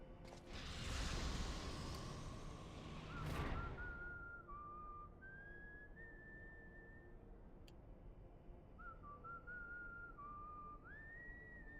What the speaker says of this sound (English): Why are you whistling like that?